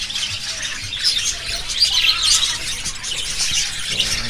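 A crowded aviary of rainbow budgerigars fills the air with continuous shrill squawks, chirps and chatter, a dense and fairly loud flock sound with no voices over it.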